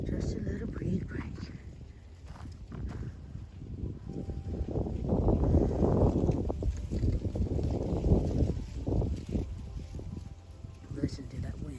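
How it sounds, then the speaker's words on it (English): Wind gusts roar across the microphone on an outdoor nature walk in Nashville, Tennessee, a continuous low, rumbling rush that swells toward the middle and stays steady throughout, with no clear talk. "Listen to that wind."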